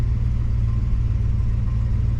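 An engine idles with a steady, deep rumble, close and constant. The engine has just had its cooling system flushed and is still overheating.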